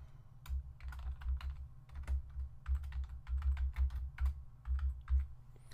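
Computer keyboard typing while working in Lightroom 4 photo software, a steady run of quick, light key clicks in uneven bursts, close and alone with no talking.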